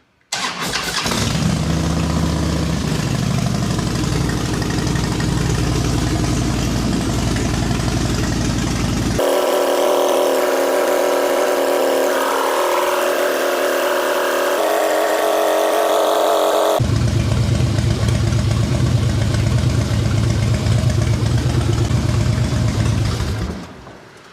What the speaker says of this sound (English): So now we're going to turn on the bike.